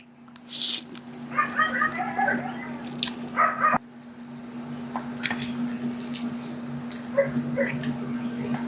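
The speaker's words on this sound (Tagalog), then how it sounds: "pasensya na sa mga aso guys na naririnig niyo yung mga asong ingay" Dogs bark and yip in short bursts from nearby, with clusters of high whining barks that come and go over a steady background hum, while people talk.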